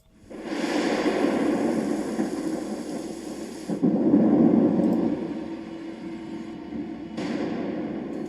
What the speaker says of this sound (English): Just some thunder.